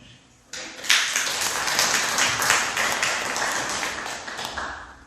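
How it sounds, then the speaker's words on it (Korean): Congregation applauding during a church worship service, a dense, sustained burst of clapping that starts abruptly and stays steady and fairly loud throughout, with no voices over it. "박수 한번 주시죠."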